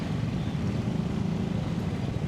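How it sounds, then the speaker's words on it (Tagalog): Wind rushes past a motorcycle riding on the Skyway toward Tagaytay, a heavy, constant low roar of buffeting air close to the microphone with no talk. "ang hangin nga sa Skyway"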